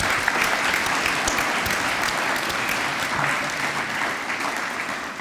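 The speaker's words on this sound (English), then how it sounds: "Let's give them a round of applause." Sustained applause from a sizable crowd, dense and even clapping that continues steadily throughout without pause.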